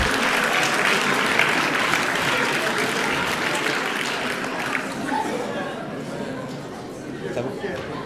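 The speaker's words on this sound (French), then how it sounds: "Jean-Pierre Gerbeau et Pierre Martinez, vous pouvez les applaudir s'il vous plaît." An audience at a sports awards ceremony applauds champions, dense sustained clapping mixed with crowd chatter, loud at first and slowly fading toward the end.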